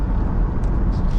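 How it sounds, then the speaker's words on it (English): Steady low road and tire rumble inside a moving 2025 Buick Enclave with smaller wheels and a four-cylinder turbo engine, a dense continuous drone heard close with no voices. "This has more road noise, shockingly, with smaller wheels"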